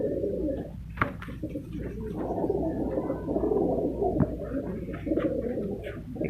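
Pigeons at a pigeon farm in Multan coo in low, throaty bursts over a dense, continuous bed of cooing from many birds nearby, with occasional sharper flutters and clicks.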